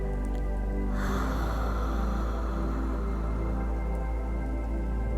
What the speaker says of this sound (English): Long exhale with the ha sound.